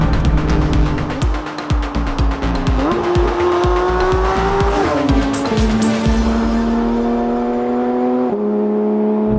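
A Porsche 911 GT3 drives hard on a race track, its engine loud and close, climbing and shifting through gears while the tires squeal and skid, with no voices.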